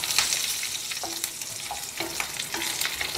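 Red and green chillies fry in oil in a pan for ridge gourd chutney, with a close, continuous sizzle broken by several sharp stirring clicks.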